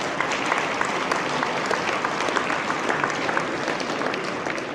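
A dining-hall crowd at an agricultural hall of fame ceremony applauds the organizing committee, a full, even roar of many hands clapping together that holds steady and loud from start to finish.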